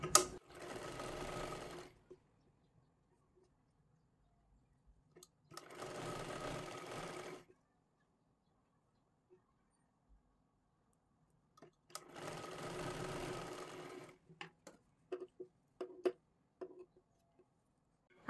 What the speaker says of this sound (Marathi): इथे आपल्याला शिलाई मारून घ्यायची आहे